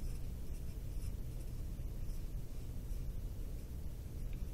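Pen or pencil scratching steadily on paper while a unit-conversion calculation is written out by hand, a continuous close, low scratching texture with no talk.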